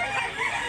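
A rooster at a chicken market in Mantalungon, Barili, Cebu gives a brief crow, a single loud, close, strained call lasting under a second.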